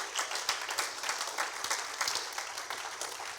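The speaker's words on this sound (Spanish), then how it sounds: "Denles ofrenda de palmas a nuestro Dios," A church congregation claps together in praise, a close, loud burst of many hands striking in quick, slightly uneven rhythm throughout the short stretch, with no talking over it.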